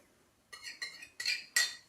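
A knife stirs a dry rock cake mixture in a bowl, giving four short, bright clinks and scrapes against the bowl in close, quiet succession.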